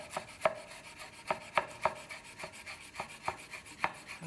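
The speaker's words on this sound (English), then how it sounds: "I do love watching you chop stuff." Knife chopping food on a board, a quiet series of sharp, fairly regular taps about every half second, heard alone.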